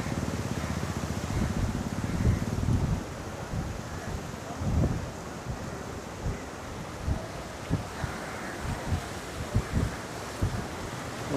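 Strong gusty wind blows on the Ganges river bank at Titagarh in the evening, with wind buffeting the microphone heavily at first and then waves washing and slapping irregularly against the shore.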